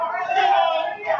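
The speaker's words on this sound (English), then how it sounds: "I didn't expect this crowd to get rowdy for this game." Rowdy crowd yelling and cheering at a mixed doubles bowling tournament, a dense roar of many voices sustained loudly for a moment before dipping briefly and swelling again.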